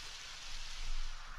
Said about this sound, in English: The sound of muffled rain on the cave top.